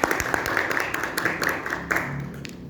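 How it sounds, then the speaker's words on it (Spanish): A group of people, likely at a youth gathering, applauds together in a brief burst of clapping that is moderately loud and fades toward the end. "vamos a darnos un aplauso entonces a todos."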